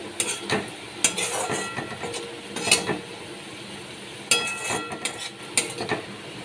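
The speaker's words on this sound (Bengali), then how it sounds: "বিনস গাজরগুলোকে আমি ভেজে নিচ্ছি" Beans and carrots frying for fried rice, stirred in a pan with a utensil, giving repeated scraping clinks and clatters over a soft, steady sizzle, with no talking.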